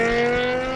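BMW V10 engine in an M5 with a manual transmission, holding a steady high-pitched rev with a strong harmonic whine, loud and close, brief and alone.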